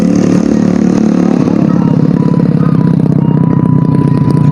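A motorcycle engine revs nearby, a loud, continuous throaty drone with rising and falling pitch and a steady pulsing rumble.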